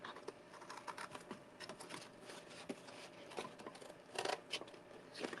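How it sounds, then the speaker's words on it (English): Scissors snip through cardboard from a cereal box in a string of faint, crisp cuts, close and quiet and with no talk over them. "I'm going to go across and cut this off."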